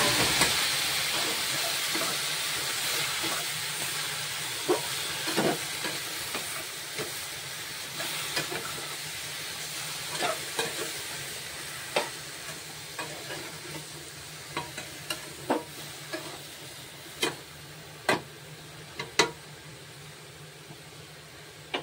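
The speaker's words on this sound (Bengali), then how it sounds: "এখন আমি সবজি দিয়ে দিচ্ছি।" Mixed vegetables are tipped into a hot pan for a five-vegetable vegetarian dish and fry with a steady, loud sizzle and hiss, while spatula scrapes and taps land repeatedly through the sizzle, near and without talk.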